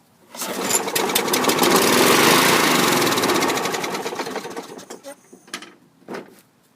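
An 80th Anniversary Special Edition Craftsman lawn mower with a leaking carburetor bowl roars into life, its engine rising to a loud steady run, then sputtering and dying away in uneven bursts near the end.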